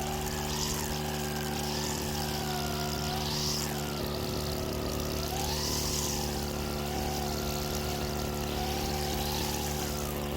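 Engine-powered brush cutter with a nylon cord head cutting long grass on a lawn, a continuous wavering two-stroke drone held at steady revs, loud and close throughout with faint swishing of cord through grass.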